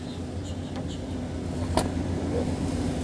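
Steady low engine rumble of a Ford F-150 pickup truck driving, with road noise throughout and a brief sharp click partway through; no talking.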